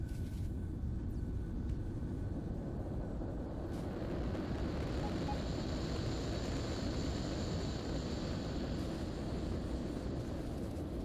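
A helicopter in the modded video game Factorio drones steadily under a dense low engine rumble, loud and continuous, with a thin high whine entering partway through.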